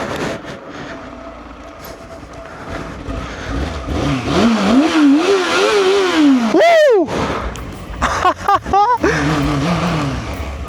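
Motorcycle engine in second gear descending a hill through a forest, revving up and down loudly and close by, with rising and falling pitch, then a sharp rev and a few short bursts near the end.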